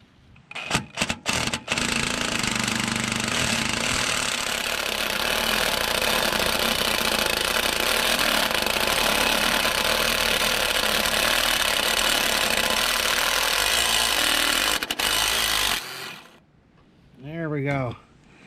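A power tool hammers out the last shock bolt on a Ford Ranger, a loud, continuous rattling drone that runs for about fifteen seconds after a few short bursts, then stops, and a voice speaks briefly at the end.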